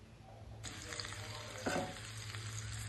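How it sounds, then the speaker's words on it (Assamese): Olives frying for a sweet pickle, stirred in a pan over low flame: a steady close sizzle with scraping stir strokes, no voices. "ভালদৰে লৰাই অলপ ভাজি লম।"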